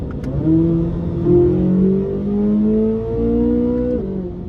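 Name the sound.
2023 Corvette Z06 naturally aspirated engine accelerating from 60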